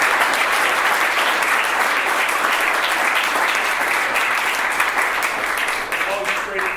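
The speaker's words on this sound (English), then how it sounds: "big hand applause." Loud, sustained applause from a room full of attendees at the close of an evening real-estate investor meeting, dense clapping that stays strong for several seconds and eases slightly near the end.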